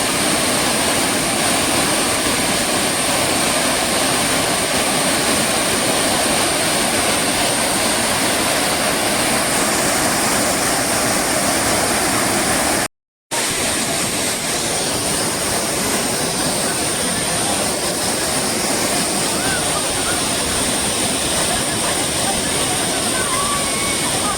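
Savadav waterfall near Kankavli roars as a constant, loud, broadband rush of falling water that fills the whole stretch, briefly cut by a moment of silence midway.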